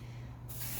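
Black spray paint hisses from a can onto a skull head set inside a box, a short close burst that swells into a steady spray after a low hum.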